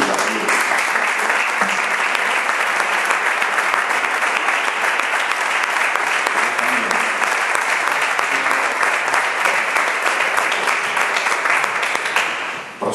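Loud, sustained applause from a large audience at a writers' talk fills the whole stretch, steady and dense, fading abruptly at the very end.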